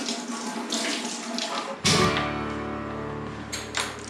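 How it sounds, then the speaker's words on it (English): Hands are washed under a running kitchen tap before cooking; the water starts with a sudden gush and then flows steadily and close, splashing for several seconds. "I have to get my hands clean"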